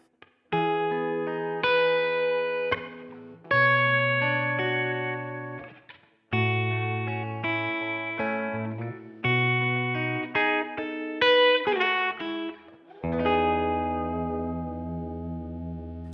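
Clean electric guitar chords from a PRS Silver Sky's humbucker bridge pickup ring out one after another with a bright, rounded, hum-free tone, each strum sustaining before the next, with short pauses between.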